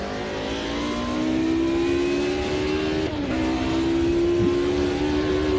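Mercedes race car on the Nordschleife in Automobilista 2, its engine droning steadily and rising in pitch as it accelerates, briefly dipping at a gear change before climbing again, loud and close.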